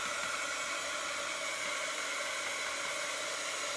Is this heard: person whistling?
no